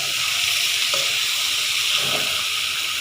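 Pork belly fries in a pan for Thai braised eggs with pork, with a steady, close, dense sizzle and crackle that runs unbroken throughout.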